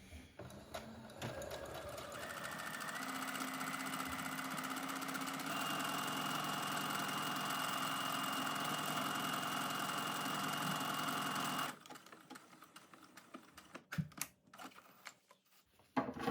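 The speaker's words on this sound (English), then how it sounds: "Make sure I'm keeping it nice and straight, and just add my buttonhole." A sewing machine runs steadily for about twelve seconds, stitching a buttonhole on the placket of a classic Oxford button-up shirt. It is close and continuous, then stops, leaving a few faint handling clicks and knocks.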